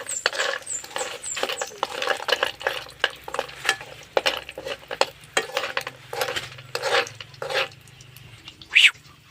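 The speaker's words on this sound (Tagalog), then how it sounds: "ato nang halo-haloon" A spoon stirs food in a cooking pan, close by, with repeated scraping and clinking strokes in an uneven rhythm over a soft, faint sizzle, along with a short high squeak near the end.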